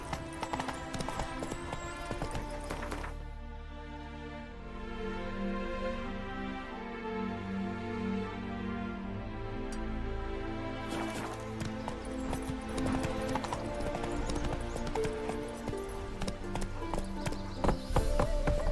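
A horse clip-clops in The Witcher 3, hoofbeats clattering loudly at the start and end with a steadier musical passage between, the hooves close and rhythmic over a game soundtrack.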